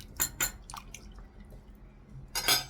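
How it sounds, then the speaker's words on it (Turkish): Sauce for tripe soup being poured into a bowl, a few short wet splashes and drips followed by a brief louder pour, close and fairly quiet. "Sosumdan da biraz vereyim içerisine."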